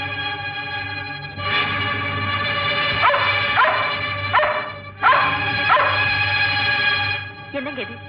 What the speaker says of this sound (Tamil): என்னங்க இது புதுசா வரவங்களை பார்த்து குறைக்கிற மாதிரி இந்த நாய் என்ன பார்த்து குறைக்குது?